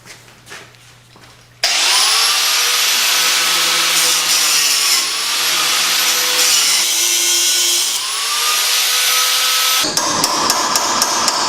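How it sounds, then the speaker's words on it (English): A cutoff wheel grinds notches into the shell of a front control arm bushing on a 1988-1998 Chevy OBS truck, a loud sustained whine that shifts pitch as it bites, after a quiet start, ending abruptly. "use my cutoff wheel and put a couple notches in it"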